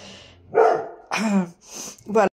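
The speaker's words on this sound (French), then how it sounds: "Ah, ça c'est mon chien," A pet dog barks in a home, two or three loud, close yaps in quick succession with short gaps between them.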